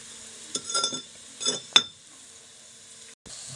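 Vegetables sautéing in a pan over a light flame, a soft steady sizzle with a few clinks and stirring scrapes near the start, then a quiet simmer.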